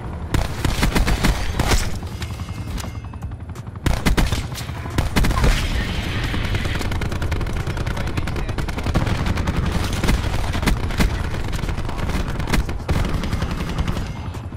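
Rapid gunfire in the Call of Duty Black Ops 4 multiplayer video game, including pistol shots, as a dense, loud, near-continuous barrage of overlapping shots and bursts with a brief pause near the four-second mark.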